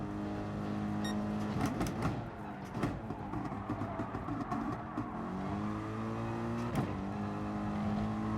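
A Nissan GT-R race car engine in GT Sport, in an FIA warm-up race, revs loud and steady, its pitch climbing and dropping through gear shifts and braking, with no talk.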